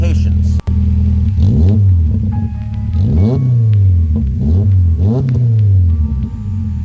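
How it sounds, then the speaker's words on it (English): A Subaru Impreza with aftermarket modifications rumbles deeply up close, its engine note swelling in several repeated revs over a loud, steady idle. "on my Impreza, it also has a deeper rumble, but that's because of aftermarket, you know,"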